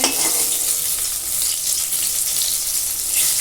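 Brinjal (eggplant) slices frying in a pan, a steady bright sizzle that runs unbroken throughout, close and fairly loud, with no voices.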